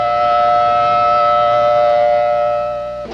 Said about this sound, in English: The first thing they did was coordinate the sounding of the sirens.